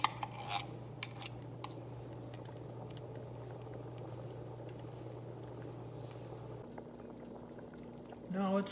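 Homemade tomato salsa with garlic and tomato paste bubbles and simmers in a pot, a steady soft boiling texture under a low hum, with a brief clink of cookware near the end.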